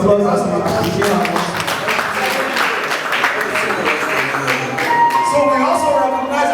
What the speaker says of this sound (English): Please a round of applause as we appreciate her.